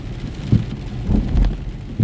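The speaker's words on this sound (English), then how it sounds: "when you hear thunder" Low, deep rumbles roll through a steady wash of rain, with a couple of soft booming thumps.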